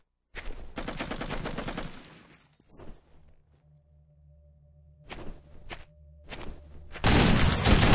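Video game gunfire: a loud, rapid burst of automatic shots, then sporadic single cracks and thuds over a low hum, then more bursts ending in heavy sustained firing.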